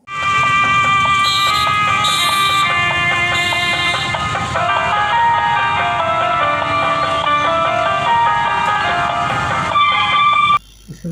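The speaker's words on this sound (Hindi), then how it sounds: "निगम आयुक्त अंशुल गुप्ता ने मधुर संगीत बजाना शुरू किया है।" Old film-song music plays from loudspeakers mounted at city intersections, a steady melodic instrumental tune running continuously and fairly loud before cutting off abruptly near the end.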